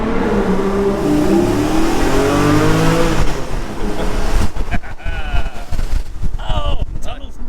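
A Porsche Cayman GT4 engine revs inside a tunnel on the NC500 route in Scotland, a loud rising engine note echoing off the walls, giving way to rougher rumbling and crackle, with voices talking over it.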